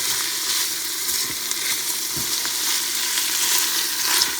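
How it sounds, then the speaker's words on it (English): Onions sautéing in a pot make a dense, steady hiss and sizzle that stays close and loud throughout, with a few faint stirring knocks and no talking. "Put my onions in there. Saute them a little bit"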